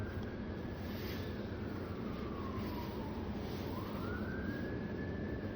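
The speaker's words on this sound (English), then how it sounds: "that siren's going off" A distant emergency siren wails in slow rising and falling sweeps over a steady background hum, faint and continuous throughout.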